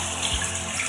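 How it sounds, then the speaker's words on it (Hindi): About a glass of water pours into a pot of chicken kabsa with rice, a short, soft splashing rush at close range. "1 गिलास से करीब हम पानी डाल देते हैं"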